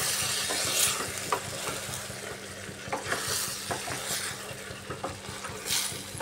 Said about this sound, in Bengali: এবার এইভাবে একটু কষিয়ে নিতে হবে। জলটা একটু শুকিয়ে নিচ্ছি ঝিঙ্গা।